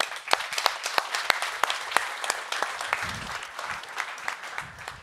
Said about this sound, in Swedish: så ger vi dem allihop en applåd en efter en